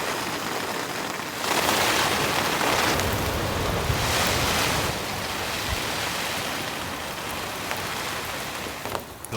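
Stormy wind roars in strong gusts that swell and ease at a campsite in heavy rain, mixed with rain-like rushing noise and no voices.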